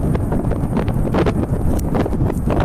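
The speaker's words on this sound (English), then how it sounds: "You can also hear the wind sound." Steady, loud wind buffets the microphone throughout near a lava flow in Iceland, a continuous low rumbling roar with gusty fluctuations and no voices.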